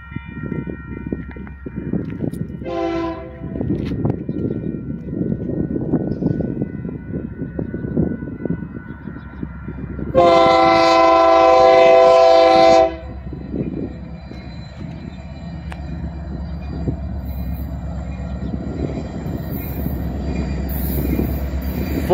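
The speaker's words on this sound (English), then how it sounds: "here comes the Union Pacific freight train" A Union Pacific mixed freight train rumbles past westbound at Carnegie Ave with steady rolling noise, a short horn blast early on and a long loud horn blast midway.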